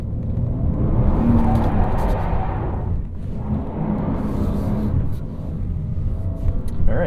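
A 2023 BMW M3 Competition xDrive in two-wheel-drive mode gives a steady, loud low engine rumble and road roar from inside the car, dipping briefly midway before building again, with no talk.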